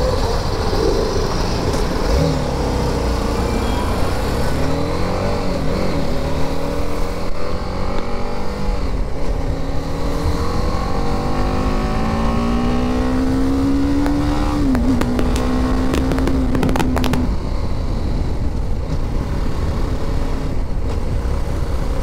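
A 2020 BMW G 310 GS BS6 motorcycle roars loudly on a test ride, its engine note climbing steadily through the revs, then dipping and rising again with gear changes, heard close up.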